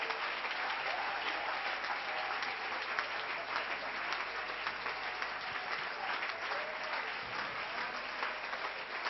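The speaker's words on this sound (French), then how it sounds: "Nous acclamons le Seigneur." A church congregation applauding to acclaim God, a dense, sustained wash of clapping from many hands, steady and even throughout, with a faint voice beneath.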